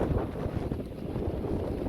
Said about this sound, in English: I've never been to a tarn that's so windy.